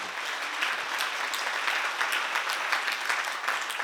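A congregation at a Korean church seminar applauds continuously, thick steady clapping filling the whole stretch at an even, fairly loud level.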